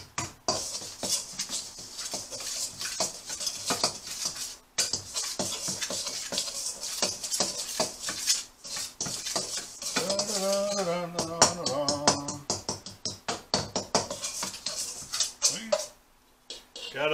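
A spoon scrapes and clinks in a bowl while spices for sweet and spicy pecans are mixed, making rapid, steady ticking taps close by, with a brief voice partway through.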